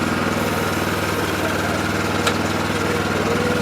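A very small Swaraj tractor engine runs steadily at an agricultural fair demonstration in Hisar, a continuous close, throbbing idle with a faint click partway through.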